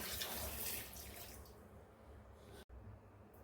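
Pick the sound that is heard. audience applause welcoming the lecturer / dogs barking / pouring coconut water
pouring coconut water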